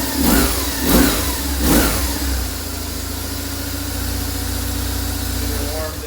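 A BMW R850R motorcycle engine, just started on a little choke while warming up, gives three sharp revs in the first two seconds and then settles into a steady, close idle.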